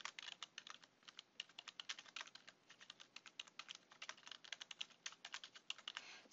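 Keys on a computer keyboard are tapped in a quick, uneven run of distinct clicks while a formula is entered, close but soft, with no talking.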